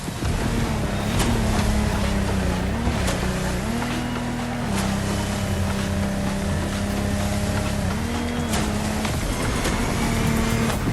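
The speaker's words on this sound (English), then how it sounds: "This time we're going offshore with way bigger boats, including the incredible Lamborghini Technomar." A Lamborghini Technomar speedboat engine drones steadily offshore in The Crew Motorfest, a loud continuous hum that shifts pitch slightly, over rushing water and wind.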